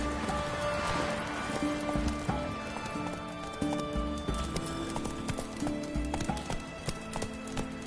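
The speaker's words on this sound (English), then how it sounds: "Run, Roach" Hooves of a horse clip-clop in a steady gallop in The Witcher 3 video game, running continuously over music and ambient game sound, with an occasional neigh.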